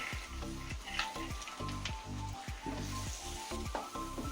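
Roasted cashews go into jackfruit halwa cooking in a pan, setting off a steady sizzle with repeated stirring strokes scraping in a regular rhythm, close and moderately loud, with no talking.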